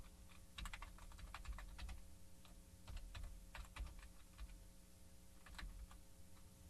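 Keys clatter on a computer keyboard in quick bursts of typing with short pauses between, close and clear over a faint background hum.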